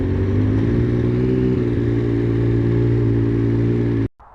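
A Benelli Tornado Tre 900 three-cylinder motorcycle holds a steady, loud engine drone close by for about four seconds, then cuts off abruptly.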